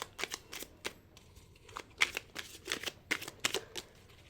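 Tarot cards being shuffled up close, a run of quick crisp riffling bursts with short pauses between them, heard alone without talk.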